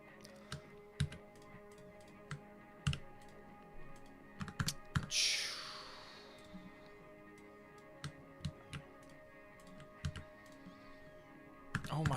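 Sparse keyboard typing, scattered clicks and short bursts of keys at a steady room distance, with a brief whooshing sweep partway through and a quiet hum underneath.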